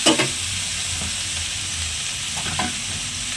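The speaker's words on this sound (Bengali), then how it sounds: "এই দেখুন প্রায় ভাজা ভাজা হয়ে এসছে" A mustard and chili paste made with salt and turmeric fries in a pan for a cauliflower stalk and winter vegetable chorchori, sizzling loudly and steadily close by as it is stirred, with no voices.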